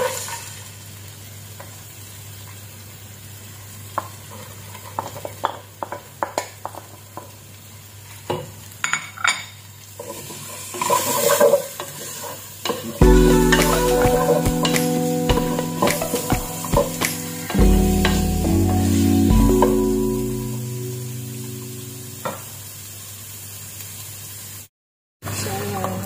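Onions hit a hot pan for stroganoff and sizzle up loudly midway, with stirring scrapes and clatter close by; quieter kitchen handling noises lead in before the frying swells.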